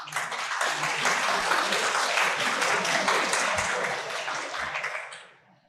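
An audience claps steadily and densely, a loud sustained wash of applause that fades away near the end.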